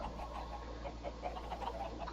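Chickens in the Minecraft video game, kept in a pen on top of a hopper, cluck softly and intermittently at a low level over a steady background hum.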